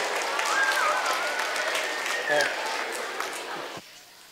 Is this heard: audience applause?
yes